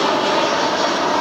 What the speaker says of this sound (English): Just wait till the aeroplane's gone past.